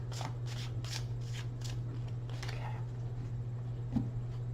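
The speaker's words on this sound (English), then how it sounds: "One more shuffle." Several quick riffling bursts of tarot cards being shuffled, close and crisp, over a low steady hum, followed by a small tap.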